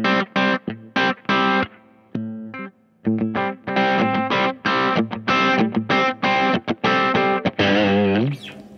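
Electric guitar through a VS Audio Royal Flush dual overdrive pedal, played in loud, choppy distorted chords and stabs at low, higher and combined gain settings, with short pauses between phrases and a ringing final chord.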